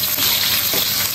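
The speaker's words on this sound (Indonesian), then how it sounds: "Okey, minyak udah hangat. Itu kita nak bak ke bawang putih ya," Garlic, shallots and chili fry in hot oil, a loud, dense, continuous sizzle heard up close with no pauses.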